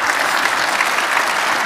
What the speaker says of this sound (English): let's give everybody one more round of applause for being here today.